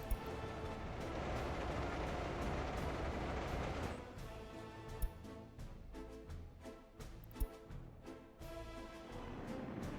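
A freight train in Workers and Resources: Soviet Republic moves along the track, a quiet steady rumble that gives way to rhythmic clacking and a few sharp metallic knocks, with no voices.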